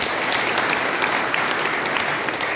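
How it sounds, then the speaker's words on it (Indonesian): A church congregation applauds steadily and loudly throughout, a dense, even wash of clapping from many hands with no break. "Kasih tepuk tangan untuk Tuhan Yesus."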